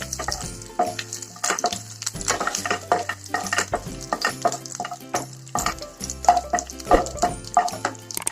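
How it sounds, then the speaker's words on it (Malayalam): Coconut pieces and cashews frying in ghee for jackfruit payasam, crackling and sizzling steadily while a spoon stirs and scrapes the pan in frequent short strokes, close and fairly loud over faint background music. "ഇതിൽ കുറച്ച് ഗീ ഒഴിച്ച് തേങ്ങാക്കൊത്തും അണ്ടിപ്പരിപ്പും ഉണ്ടാക്കാം. ഒന്ന് വറുത്തെടുക്കാം."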